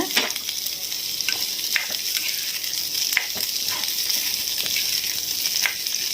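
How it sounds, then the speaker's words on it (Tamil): Sliced onions and curry leaves sauté in hot oil for a chicken kuzhambu, a bright, continuous sizzle up close broken by repeated short stirring scrapes, without any talking. "நான் வெங்காயம் போட்டுட்டு இப்போ நம்ம வதக்க போகிறேன் வதக்கும் போது கருவேப்பிலை போட்டுடுங்க"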